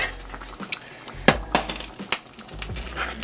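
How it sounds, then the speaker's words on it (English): A pot of crimini mushroom risotto being stirred with broth, a utensil scraping and knocking against the pot in irregular clinks and thuds, close and fairly quiet with no talking. "Give that a nice stir."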